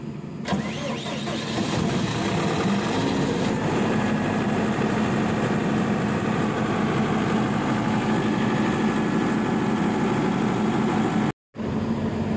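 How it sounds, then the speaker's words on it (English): A generator cranks, starts and settles into a steady rumbling idle close by, running continuously before a brief cutout near the end. "Ganito nga pala yung pag-start ng generator."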